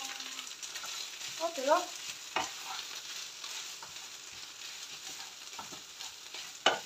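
A crêpe cooks in a home-kitchen pan with a steady hiss of frying, broken by a few sharp clinks and knocks; a voice briefly speaks over it near the start.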